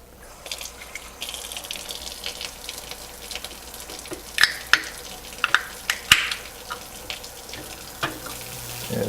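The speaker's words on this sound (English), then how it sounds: "Add the wort." Wort poured while brewing mead, a close, steady watery splash and gurgle with repeated sharp splatters and clinks.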